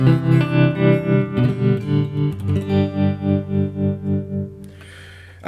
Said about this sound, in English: I might do the same thing but add a tremolo.